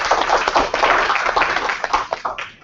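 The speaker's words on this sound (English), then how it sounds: "I would like to give him an applause" Brief audience applause at a live policing and transparency conference session, a short burst of moderately close hand clapping that tapers off near the end.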